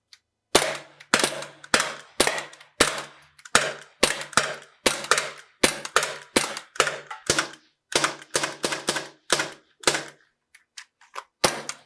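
Plinking pistols fired rapidly at an outdoor shooting range in a timed contest: a steady string of sharp, loud cracks, roughly two to three per second, with a brief pause near the end before a final shot.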